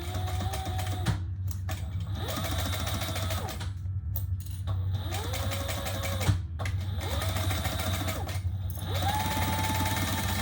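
A sewing machine stitches a handbag with double-sided tape gumming the needle, running in steady whirring bursts separated by short pauses, close and continuous with a low motor hum throughout and no talking.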